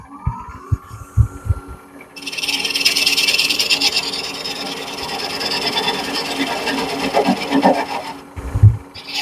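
A small combination skew and bowl or spindle gouge cuts wood on a lathe: a few knocks, then a steady rasping scrape that runs for several seconds before stopping with a low thump.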